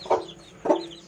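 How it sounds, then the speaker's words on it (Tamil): A hen clucks twice at a steady interval, close by with no talk, in a backyard coop where she recently hatched parrot-beak chicks. "பொட்டைக்கோழி."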